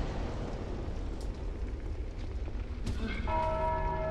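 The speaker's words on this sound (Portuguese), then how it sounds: "ou alguém tocou o sino?" A church bell in Dark Souls 2 strikes once near the end, a single resonant toll ringing out over a dull rumbling ambience.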